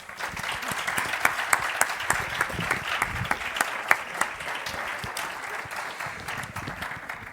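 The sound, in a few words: audience applause for a speaker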